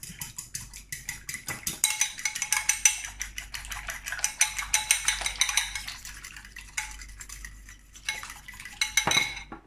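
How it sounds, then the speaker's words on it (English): Eggs whisked briskly in a bowl for a flourless keto okonomiyaki, a fast, steady clatter of whisk against the bowl sides with bright clinks, close and continuous with short pauses, no talking. "Whisk it up."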